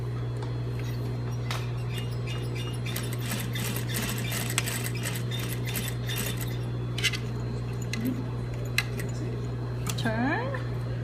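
A sewing machine runs a 1/4 inch top stitch along a pocket flap, a steady mechanical hum with scattered clicks and light clatter, fairly quiet, ending with a brief voice.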